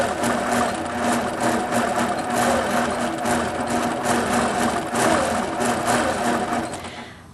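A sewing machine runs while quilting, its steady motor whir and rapid stitching holding close and even throughout before easing off at the very end.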